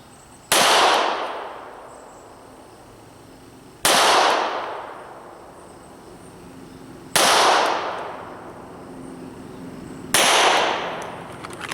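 Four sharp handgun shots ring out several seconds apart during a front-sight shooting drill, each a loud, close crack trailing into a long outdoor echo.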